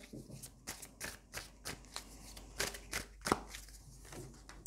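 Oracle cards from a plant-message deck are shuffled and drawn close up in a steady series of soft papery riffles and flicks, with a sharper snap near the end and no speech.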